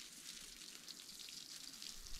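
Water sprayed onto outdoor solar panels to wet them gives a faint, continuous, hissing spatter with no talk.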